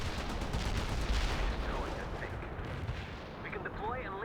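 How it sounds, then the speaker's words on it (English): A heavy artillery barrage in the World in Conflict strategy game rumbles as a dense, continuous roll of booming explosions and gunfire, loud and sustained, with brief radio-style voices near the end. "We can deploy and lay down the heavy barrage."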